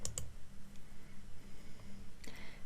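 Computer mouse clicks, two quick crisp clicks at the start and another near the end, close and faint over a low steady hum.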